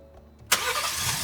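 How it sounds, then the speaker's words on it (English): A truck engine cranks and catches during a diagnostic session in an automotive and heavy equipment shop, a sharp burst of starter noise settling into a loud, steady running rumble. "then we'll start up the truck"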